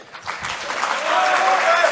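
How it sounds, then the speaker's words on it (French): An audience at a student eloquence contest breaks into applause for a speaker, clapping swelling from quiet to a full, steady burst over two seconds. "Merci beaucoup Khaled, vous pouvez encore l'applaudir"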